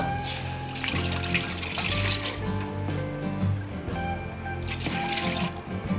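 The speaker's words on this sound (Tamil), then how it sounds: "மறுபடியும் சட்டி வச்சு தண்ணி ஊற்றிக்கங்க" Water pours steadily into a pan for jackfruit payasam, a continuous liquid splash and trickle with faint clinks, heard up close.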